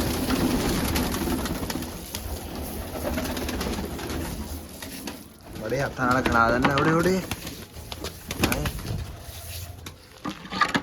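White pigeons coo in a brief burst of rounded, warbling calls near the middle, set against steady background noise and someone talking through most of the clip.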